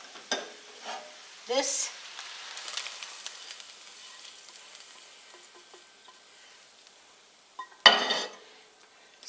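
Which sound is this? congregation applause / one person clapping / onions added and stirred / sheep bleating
onions added and stirred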